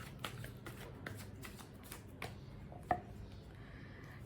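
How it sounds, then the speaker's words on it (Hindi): Tarot cards being shuffled by hand, with soft riffling and a series of light taps and flicks at a fairly steady pace, close and quiet and with no voice. "I'll be shuffling up the cards."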